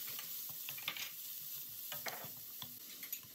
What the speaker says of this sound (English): In a large wok, I am adding some oil and add the shredded carrots